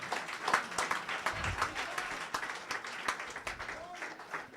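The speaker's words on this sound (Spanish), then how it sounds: "Dale un aplauso al Señor" A church congregation at a worship service applauds, a steady crowded clapping heard throughout with voices faintly mixed in.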